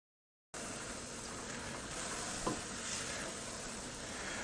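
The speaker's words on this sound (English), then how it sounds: "You brown it just like you would for any recipe that calls for browned ground beef." Ground beef browning in a pan gives a steady, close sizzle with faint scraping from a utensil stirring and breaking up the meat, starting abruptly after a brief silence.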